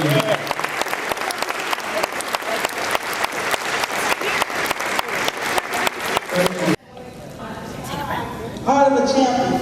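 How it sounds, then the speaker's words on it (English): Church congregation at a Sunday morning service claps in a steady, rhythmic round of applause for several seconds, then it cuts off and a voice speaks over the room. "Let's give them a round of applause."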